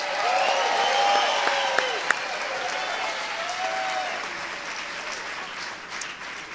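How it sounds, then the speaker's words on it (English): Audience at a live film event applauding the venue and its host, a sustained crowd clapping with a few sharper claps and faint tonal sounds mixed in, slowly easing in level. "How about a round of applause for the Blue Note and Richard King?"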